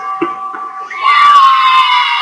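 Children cheer and shout in Five Nights at Freddy's 2, a loud, bright burst of crowd voices that swells after a brief stretch of quieter tonal sounds.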